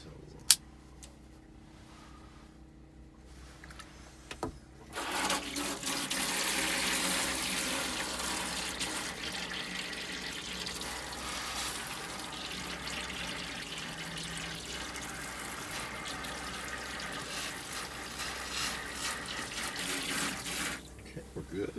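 Antifreeze runs through the shower faucet of a NuCamp TaB 400 camper trailer during winterizing, a steady hissing stream that starts abruptly about five seconds in and continues loud and close for most of the clip before cutting off near the end.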